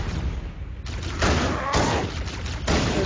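Rapid gunfire in the Halo video game, loud continuous bursts of automatic fire in several waves with brief lulls between them, no talking over it.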